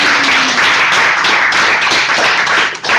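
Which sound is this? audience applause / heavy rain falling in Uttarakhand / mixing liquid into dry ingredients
audience applause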